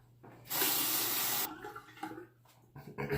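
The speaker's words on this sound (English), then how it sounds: "Let me rinse the razor." A razor rinsed under a running tap, a close burst of rushing water for about a second, then softer splashing and trickling as the flow tapers off, with no talk.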